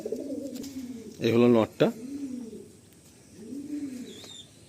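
Madrasi pigeons cooing in a loft, low soft repeated coos near the microphone while someone talks over them.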